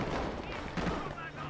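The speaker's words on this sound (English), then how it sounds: "Oh, what was that explosion? Oh, Panzerschreck." Panzerschreck rocket explosion in the Company of Heroes real-time strategy game, a loud blast amid dense crackling gunfire and battle noise that fills the whole moment.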